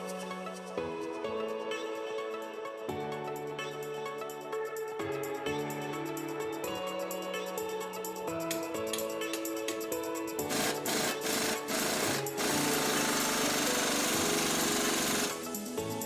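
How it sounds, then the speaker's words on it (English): An impact wrench rattles in long bursts while bolting the front shock absorber of a 2017 Ford F-250/F-350 into its mount during a leveling kit install, loud and continuous with pitch shifts and harsh grinding toward the end. "insert the new hardware and bolt the shock into place"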